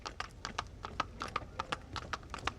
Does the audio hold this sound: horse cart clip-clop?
yes